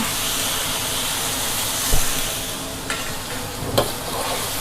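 Water hitting a hot pan of shrimp red curry stir-fry sets off a loud, continuous, close hissing sizzle, with a couple of brief clinks and scrapes of a utensil partway through.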